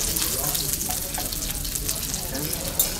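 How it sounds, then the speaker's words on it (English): Lobster frying in a hot pan at the Murano restaurant aboard Celebrity Silhouette, a close, steady crackling sizzle with bright spitting bursts throughout. "The sizzle."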